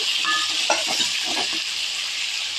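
Onions with freshly added tomatoes sauté in a pan for a fish curry, giving a steady close sizzle and hiss with a few soft stirring scrapes and no voices.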